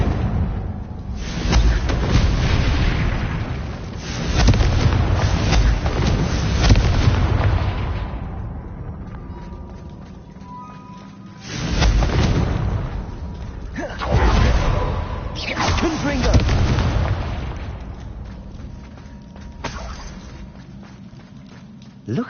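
A Confringo spell explosion in Hogwarts Legacy, heavy booming bursts with rumbling tails, a long blast early on and further explosive bursts later, loud and close with quieter gaps between.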